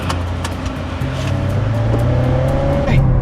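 A Subaru WRX tS drives along with a steady engine drone and a gear change partway through, the note climbing as it pulls. Road and tire noise run underneath, and no one speaks.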